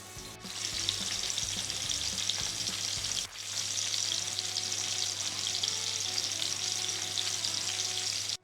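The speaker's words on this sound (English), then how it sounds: "now I'm going to start to add my meatballs one by one. If it doesn't sizzle, don't put it in." Grass-fed beef meatballs sizzle steadily in hot olive oil in a pan, a loud, continuous close-up frying hiss with a brief dip partway through and no talking.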